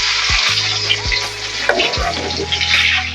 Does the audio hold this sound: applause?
no